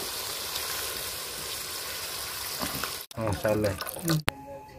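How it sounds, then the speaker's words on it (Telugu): Water pours steadily into a pot of chicken keema in a continuous broadband rush for about three seconds, then stops abruptly and a voice speaks briefly. "ఇంకా మళ్ళీ నీళ్ళు వేసుకుందాం"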